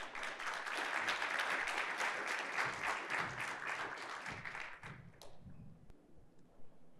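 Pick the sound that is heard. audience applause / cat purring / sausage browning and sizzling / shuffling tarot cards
audience applause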